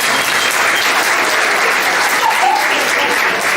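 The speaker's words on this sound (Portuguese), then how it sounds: "Palmas para ela." Steady, loud applause from an audience at a motivational talk, a dense wash of clapping that holds at an even level throughout, with no voices standing out.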